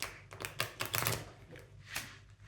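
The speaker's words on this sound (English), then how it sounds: "This deck is a bit heavy to shuffle like that, but I'm doing my best." A heavy tarot card deck is riffled and shuffled by hand, giving a run of close, crisp papery flutters and slaps that peak in the middle and trail off, with no talking.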